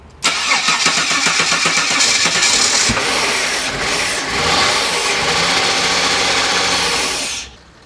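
A Holden Commodore's V6 Buick Ecotec engine cranks and fires after an injector swap, a sharp start that settles into a loud, steady idle before cutting off abruptly at the end.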